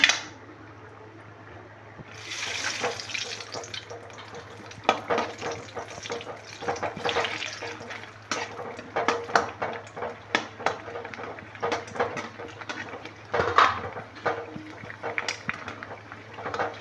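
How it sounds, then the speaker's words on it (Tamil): Masala puri dough rounds fry in hot oil with scattered crackling and sizzling pops of varying loudness, accompanied by utensil clinks and occasional handling sounds. "இப்போ வந்து எல்லாம் எண்ணெய் காய வச்சாச்சுங்க இப்போ இந்த பூரியை போட்டு பொரிச்சுக்கலாங்க"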